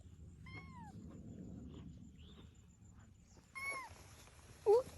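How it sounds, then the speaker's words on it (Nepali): A hungry stray kitten near a bridge gives several faint, thin meows, one early and another a few seconds later, over quiet outdoor background, with a brief louder knock near the end. "यो हो बिरालो तिम्रो"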